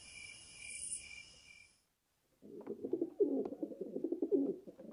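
Pigeons breeding around rural farmhouses coo in low, repeated murmurs after crickets and high bird calls stop, with a brief silence between the two.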